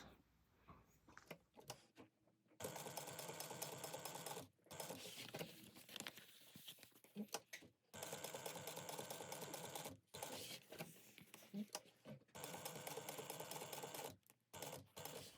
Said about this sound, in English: We're going to sew down around the bottom and back up, and we're going to end where that stitching is.